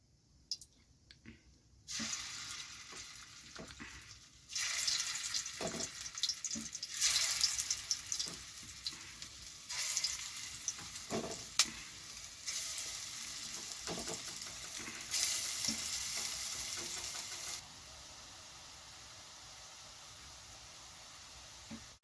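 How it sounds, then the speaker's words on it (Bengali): Soybean muitha dumplings, shaped long, frying in mustard oil in a kadai, a steady hissing sizzle with bursts of crackle that rise and fall over about twenty seconds, nearby and fairly loud, with no talking. "আমি কড়াইতে সর্ষের তেল দিয়ে মুইটাগুলো লম্বা আকারে গড়ে নিয়েছি সেগুলো আমি তেলের মধ্যে ভেজে নিলাম"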